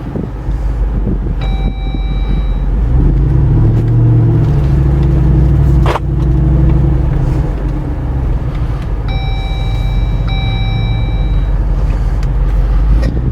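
A 2021 Jeep Wrangler Rubicon 392 V8 rumbles steadily at low speed across a parking lot, its deep engine drone constant and close alongside wind noise, with a brief sharp knock partway through.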